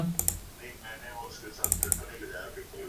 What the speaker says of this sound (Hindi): इसके बाद आपने एंटर की प्रेस की, आपका प्रिंट निकल आएगा